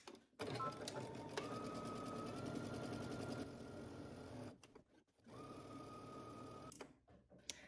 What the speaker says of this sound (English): All right, let's head to the sewing machine.